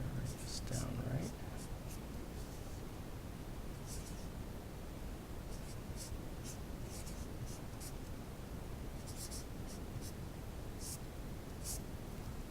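A pen scratches across paper in short strokes and pauses, faint and close, over a steady hiss of background noise; a quiet voice mutters briefly at the start.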